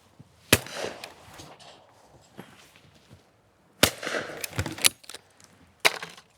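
Yildiz 20-bore shotgun fired at clay targets outdoors: three sharp, loud reports spaced apart, each followed by brief ringing and rustle, with quiet gaps between.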